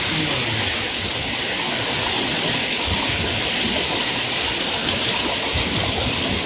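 A powerful, tall waterfall deep in a remote Thai forest roars steadily, a broad continuous rush of falling water heard up close with no break.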